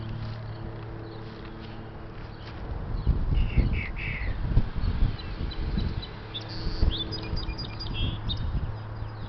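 Several bird calls, caws and chirps, ring out at a moderate distance over a low outdoor hum, scattered irregularly with no talking.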